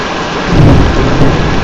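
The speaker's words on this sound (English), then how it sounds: "About a mile between the flash and the thunder." Thunder rumbles loudly through steady heavy rain pouring down outdoors in a storm, the deep roll swelling midway over the constant hiss of rainfall, with no talk.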